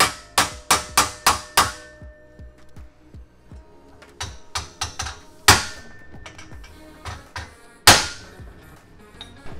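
Hammer strikes on a tacked joint of a custom e-mountain bike frame ring out in quick bursts of five or six sharp metallic blows, then scattered single hits, close and loud.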